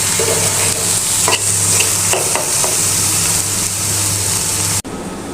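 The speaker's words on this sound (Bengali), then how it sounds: "আমি আমার সবকিছু কড়াইয়ে আজকে শুকনো ভুনাটা করছি।" Dry fish bhuna stirred and fried in a wok, with a loud continuous sizzle, repeated spatula scrapes and a steady low hum. Everything cuts off abruptly near the end.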